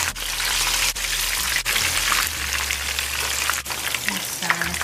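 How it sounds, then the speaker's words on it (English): Salmon fillet pan frying skin-side down as the skin browns, a continuous loud sizzle and crackle with a few brief dips, no voices. "I'm going to turn the salmon one more time to the other side and let the skin brown a little more."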